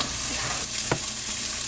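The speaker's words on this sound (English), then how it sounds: "I'm just gonna go ahead and dump that in the pan." Chicken soup ingredients land in a hot pan and sizzle loudly and steadily, with a short soft thud partway through the continuous frying hiss.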